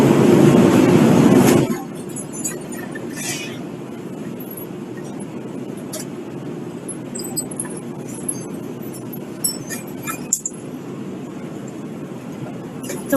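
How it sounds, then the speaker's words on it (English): Large conveyor belt inside a recycling facility, dropping piles of mixed recyclables into bins: a steady industrial rumble with scattered clattering impacts and clanks, loud at the start and then continuing as a dense ongoing din. "what you're hearing is this large conveyor belt that's dropping off kind of piles of different things in their recycling bins"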